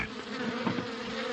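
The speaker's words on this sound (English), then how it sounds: "now he had over 100 hives of bees" A steady, dense buzzing of many honeybees from beehives, continuous and fairly close, with a droning hum that never lets up.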